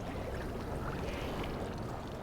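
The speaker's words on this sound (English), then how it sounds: "And listen to that bubbling." Oil bubbles and gurgles as it fills a waiting fuel train in the transport-management game Transport Fever 2, a steady loud churning wash with no talk.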